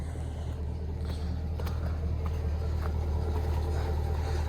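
Low, steady engine drone from a 2-wheel-drive pickup truck fitted with highway-tread tires and weighted for winter, heard from inside as the engine bogs under load, a continuous muffled rumble with faint clicks.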